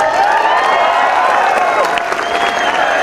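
A large rally crowd at a Shivrajyabhishek gathering cheers and applauds in a loud, continuous roar of clapping and shouting voices, steady and close throughout.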